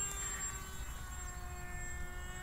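A small remote-controlled plane flies overhead with a steady high-pitched motor whine and a constant drone, held at a fairly even level throughout with no voices.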